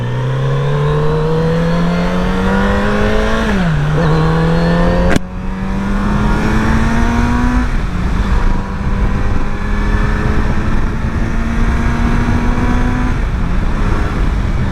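A Kawasaki Z900RS inline-four motorcycle engine hums steadily while riding, its pitch climbing smoothly through the revs and briefly dropping at a few gear changes. It is loud and close throughout, with no speech.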